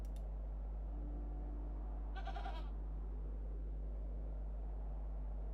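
A goat in the video game The Excavation of Hob's Barrow gives a single short, clear bleat against a quiet background hum.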